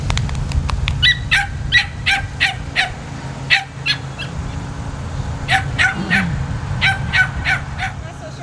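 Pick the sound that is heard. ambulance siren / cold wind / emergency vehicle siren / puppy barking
puppy barking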